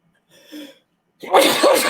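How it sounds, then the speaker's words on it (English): A brief sharp intake of breath, a short pause, then one loud, explosive sneeze right up close. "My first sneeze on video."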